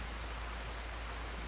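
Steady rain in the game Skyrim, a dense even hiss of falling water that holds constant and fairly faint with no voices.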